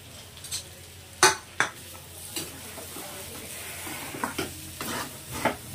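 Fried potato pieces stirred with finely chopped fresh coriander in a pan for a quick masala aloo fry, with several sharp scrapes and clinks of a spoon against the pan over a low steady sizzle, close and moderately loud.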